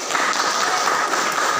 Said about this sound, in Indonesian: Nah, ya tepuk tangan dong.